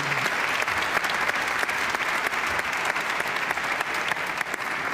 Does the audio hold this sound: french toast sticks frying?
no